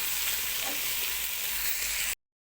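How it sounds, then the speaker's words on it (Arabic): Onions frying with chunks of meat in a pot for a kebab stew with potatoes, a dense, loud, continuous sizzle close up that cuts off abruptly. "تمام كده هننزل بقى بالبصل، كميه بصل حلوه كده"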